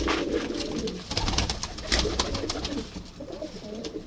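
Pigeons from a Punjabi breeder's loft of paired racing birds, including a speckled 'pearl' pigeon, coo in low repeated murmurs over steady close background noise and rustle.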